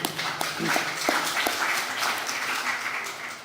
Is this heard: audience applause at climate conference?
yes